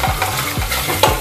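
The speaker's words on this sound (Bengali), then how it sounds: "মশলার সাথে মাটনটা এবার কষতে থাকবো। গ্যাসটা আমি কিন্তু জোরই দিয়ে আছি, হাই ফ্লেমে আমি রান্নাটা করছি" Mutton browning with spices in a pan over a high gas flame sizzles loudly and steadily, with rhythmic stirring scrapes every half second or so, close up and without talk.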